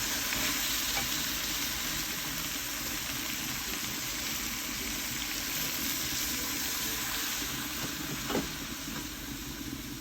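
Sautéed duck meat sizzles and fries steadily in a pan as water is poured in, a continuous loud crackle with a brief stir near the end and no talking.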